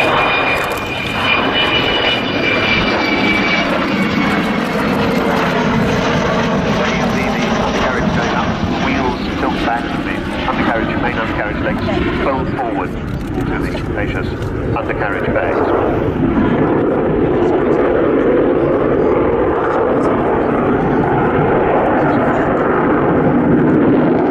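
Avro Vulcan XH558 bomber flying down the runway with wheels down at the RIAT 2015 air show, a loud continuous jet roar and rumble sustained throughout while a commentator talks over it.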